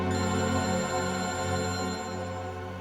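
Telephone ringing during a police drama scene, a steady tonal ring sustained throughout at moderate loudness, layered with harmonic background music and no speech.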